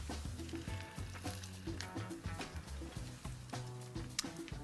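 Courgette sizzles in oil in a pan, a steady close crackle with scattered pops and clinks that runs throughout.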